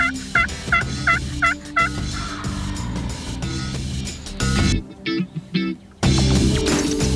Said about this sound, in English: we had a bird calling to us right on the roost